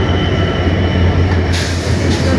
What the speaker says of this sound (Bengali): নীলসাগর এক্সপ্রেস ট্রেনটি বর্তমানে সৈয়দপুরে ইন করলো